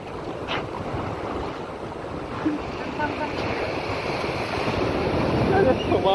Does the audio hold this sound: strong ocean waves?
yes